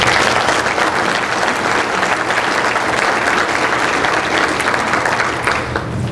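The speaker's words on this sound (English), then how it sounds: "That needs a round of applause." Steady, dense applause fills a hall as the audience at the 2015 Clayton County State of the County Address claps together at an even level for several seconds with no speech over it.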